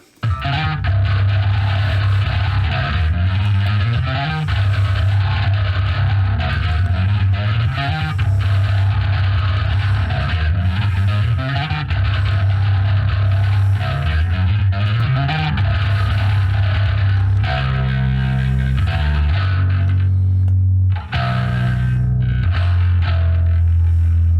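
A distorted metal bass track plays back in Studio One with a JW bass limiter used as mix-bus glue. It is dense, loud and continuous, with a shift in the pattern near the end and no talking.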